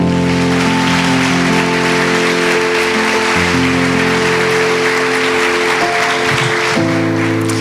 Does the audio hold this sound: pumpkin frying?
no